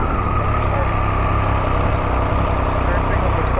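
Triumph Speed Triple 1200 RS motorcycle engine idling just after ignition, a steady, loud, continuous rumble with a low throbbing pulse that holds evenly throughout.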